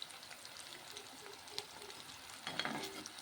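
Fresh curry leaves fry in a pan of hot oil while a tomato, coconut and coriander chutney is cooked, making a soft sizzle and crackle with light stirring scrapes that swell louder near the end.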